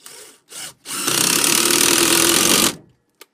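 A Ryobi impact driver drives lag screws into wooden beams: two short bursts, then one sustained loud whirring, hammering run of about a second and a half. It winds down to quiet, followed by a faint click.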